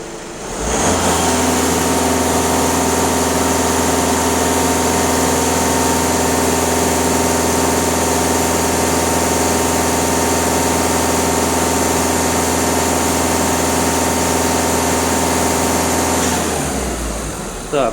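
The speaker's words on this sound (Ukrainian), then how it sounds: "Так, автомобіль прогрітий, можна газувати. На холостих показує 0, даю газ в пол." A warmed-up VW Golf 2.0 TDI diesel engine runs at high revs with the throttle floored, holding a steady, loud, tonal drone for about sixteen seconds before dropping away.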